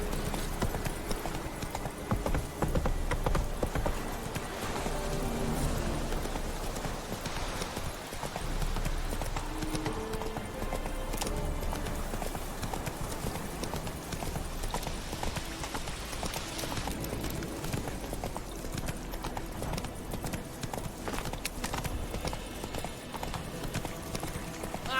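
Roach, Geralt's horse in The Witcher 3, gallops with a steady, rhythmic clip-clop of hooves, fairly close and continuous, with faint background ambience and occasional snorts.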